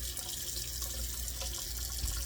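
Hot water running steadily from a kitchen tap into a sink, a continuous near rush with no talk.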